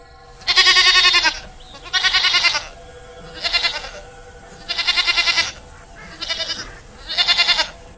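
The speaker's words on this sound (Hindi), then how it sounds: "सोना ये बात बोलकर एक पेड़ के नीचे बैठकर आराम करने लग जाती है और उसकी बकरियां खुद ही घास चर रही होती हैं" Goats bleat repeatedly in loud, wavering cries, six calls spaced about a second apart, close by with no talking.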